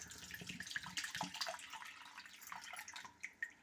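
Water poured out of a freshly cut tender coconut, faint trickling and splashing with small irregular drips and pours, close and quiet.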